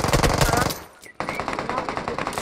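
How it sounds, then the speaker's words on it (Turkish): Rapid automatic gunfire rattles in the mobile game PUBG Mobile, loud and close. A dense burst breaks off briefly, then resumes as a fast, steady stream of shots. "Tamam, tepeden birini vurdum."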